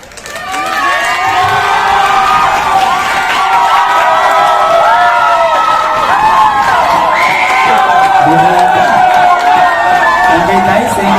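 An audience at a lookalike contest cheers and shouts loudly for the whole stretch, with excited whoops and high voices layered over a dense crowd roar.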